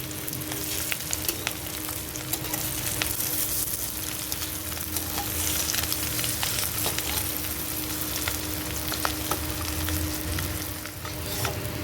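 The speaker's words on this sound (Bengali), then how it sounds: "এখানে ডিমগুলো কিন্তু খুব ডিপ ভাজবো না, আমি হালকা করে ভেজে নেব।" Eggs fry lightly in a pan with a steady, moderate sizzle and a faint crackle, occasionally stirred, with no voices.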